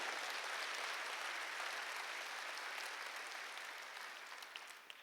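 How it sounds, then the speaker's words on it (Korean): A church congregation claps together during a sermon at a Korean church, a dense, steady wash of applause that holds for several seconds before slowly thinning out. "박수"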